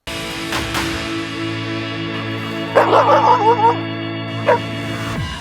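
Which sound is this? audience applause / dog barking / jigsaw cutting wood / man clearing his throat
dog barking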